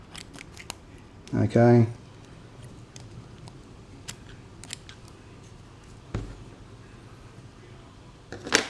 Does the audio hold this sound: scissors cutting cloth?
yes